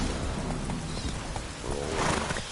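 Horse hooves clip-clopping at a trot in The Witcher 3, with a brief whinny, close and fairly quiet over a short stretch.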